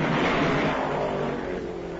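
Historic stock cars race around the track at the 1978 Southern 500, a brief loud roar of engines sweeping past, fading slightly as the cars move on.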